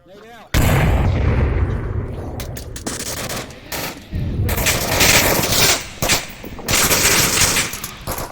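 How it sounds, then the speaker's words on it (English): Heavy explosions and gunfire in the VR video game Onward, a loud continuous barrage of booming blasts and rattling shots that fills the whole stretch after a quiet opening. "I'm gonna throw over the hill with the nade, so hang on."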